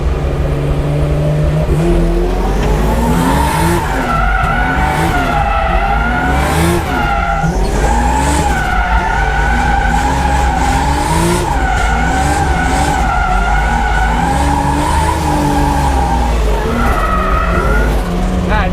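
BMW M6 drift car revving hard and skidding with continuous loud engine roar and tire squeal, pitch rising and falling as it slides, close and sustained throughout.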